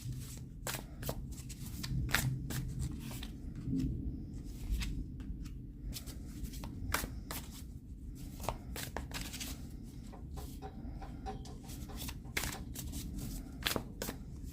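Tarot cards shuffled by hand in a steady, rapid run of crisp riffling flicks, close and fairly loud over a low background hum, with no talking.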